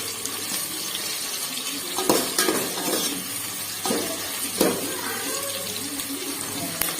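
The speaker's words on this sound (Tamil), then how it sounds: "வெங்காயம் நல்லா பொன்னிறமாக வதங்கணும்" Onions sauté in a pan over low heat until golden for biryani, giving a steady, moderate hiss broken by a few clinks and scrapes of stirring; no one speaks.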